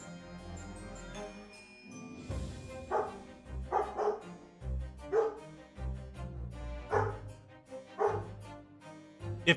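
A dog barks in a string of sharp, loud woofs at a fairly regular pace, close by, with softer yips and low music beneath.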